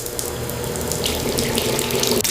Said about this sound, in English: I turned on the faucet. The whoosh of running water was the only sound in the cold space.